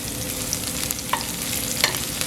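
Onions and chopped garlic sizzle steadily in a hot pan while empanada filling is prepared, with a spoon stirring and scraping through the frying food, close and continuous with no talk.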